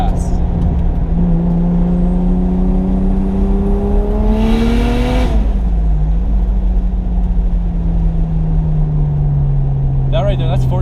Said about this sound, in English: Dude, it spools so fast.